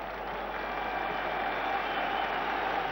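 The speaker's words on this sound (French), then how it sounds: "Très applaudi Kienval" Sustained applause from a stadium crowd at a Sweden versus France World Cup qualifying football match, greeting a player after a skilful goal; a steady, dense wash of clapping and crowd noise, distant and even throughout, with no clear speech.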